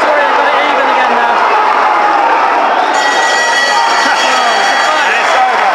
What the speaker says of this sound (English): The crowd have gone mental here.